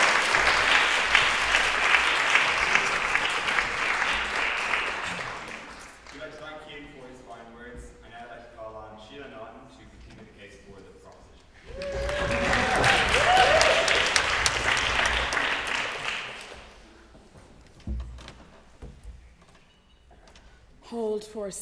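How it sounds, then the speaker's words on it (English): Audience at a formal debate breaks into loud, sustained applause after a speech, fading into murmurs and scattered voices before a second strong burst of clapping swells up, with people talking throughout. "Hold for a second round of applause."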